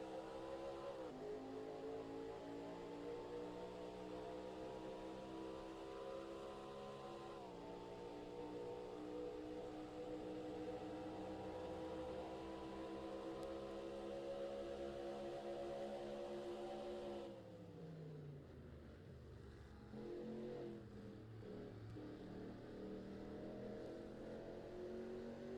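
A race car engine heard from onboard during a lap of the Daytona Road Course, a loud continuous wail rising and falling through gear changes, with a sharp downshift and braking near the end, steady and close throughout.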